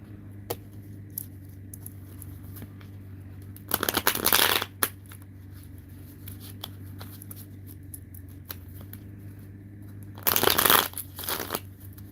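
Tarot cards being shuffled in two quick riffling bursts several seconds apart, close and crisp, over a low steady hum with faint small handling clicks between.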